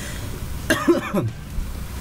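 A man coughs a few times in quick succession during a StarCraft match commentary, short close bursts over a quiet background.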